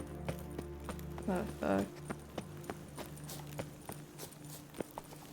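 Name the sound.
hooves of Roach the horse, from video game The Witcher 3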